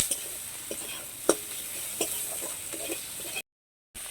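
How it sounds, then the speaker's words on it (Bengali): Ginger paste and spices are being stirred and fried in a pan with a steady, bright sizzle and a few scrapes and knocks from the spoon, close by, then a brief cut to silence near the end. "এবার এর মধ্যে একটু আদা বাটাটা দিয়ে দিলাম ভালো করে এটাকে মশলাটাকে কষে নেব"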